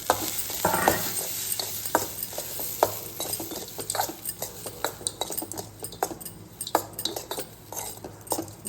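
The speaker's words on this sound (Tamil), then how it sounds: "இதில் இந்த வடித்து வச்ச சாதத்தை வந்து நம்ம கலந்துடலாம்" Cooked rice is stirred into a lemon rice mixture in a pan, with repeated scraping of a metal spoon, light clinks and a soft sizzle in an irregular rhythm close up.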